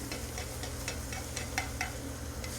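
Meat searing in a hot skillet, a steady, moderately loud broadband sizzle running throughout with a low hum underneath and faint clicks and scrapes scattered across it; no one talks.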